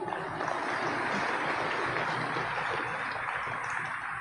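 Audience applause during a regional task force speech, a dense, even wash of clapping sustained at moderate distance throughout, with no speech over it.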